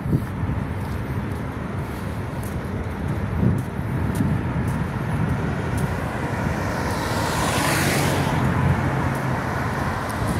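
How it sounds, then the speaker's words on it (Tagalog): Cars creeping slowly along a road in thick fog make a continuous low traffic rumble. A louder vehicle swells past near the middle, rising to a brief whoosh, and no one speaks. "Mabagal ng takbo ng kotse nila"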